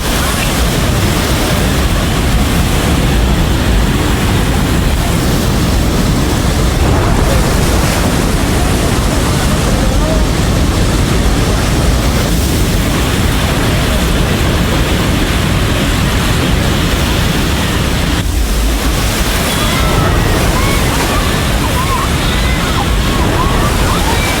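Flash flood water roaring at the Nepal-China border, a loud, dense and unbroken rushing wash with wind buffeting the microphone throughout.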